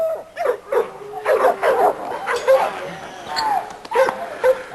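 A small female dog in a yard barks in short yips and whimpers repeatedly, close and fairly loud, with people talking over it throughout.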